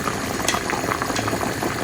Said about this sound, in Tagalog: So, yan ang ating beef. Kulo-kulo na siya.